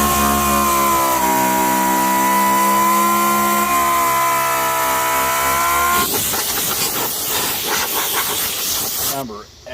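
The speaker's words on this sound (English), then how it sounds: "We're really focused on getting them sanded really good, really smooth for my next application." Power sander smoothing a truck gas tank shield protection cover for a GMC Sierra or Chevy truck, a loud steady whine that shifts to a rougher, grittier tone partway through.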